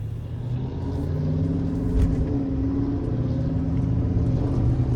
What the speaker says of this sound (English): The acceleration from a turbocharged V8 diesel engine.